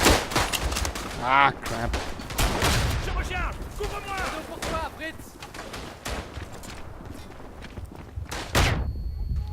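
Gunfire and a grenade blast in the WWI shooter Verdun on the Picardie map, with dense shots, thuds and booms crackling throughout, while a player speaks briefly over the chaos.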